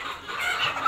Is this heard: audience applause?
no